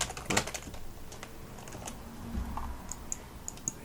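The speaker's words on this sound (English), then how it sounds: "We'll just type in click." Keys tapped on a computer keyboard in short irregular bursts, fairly quiet and close, with light clicking scattered across the stretch and no talking.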